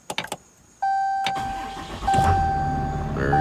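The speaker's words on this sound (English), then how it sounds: "Your foot on the brake, you can start the engine, and it should start" A Ram Cummins 6.7 diesel pickup cranks briefly and catches, settling into a steady close idle with a faint electronic chime tone running over it; no talking.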